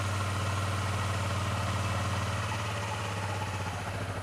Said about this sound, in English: I noticed that it's hunting on idle sometimes.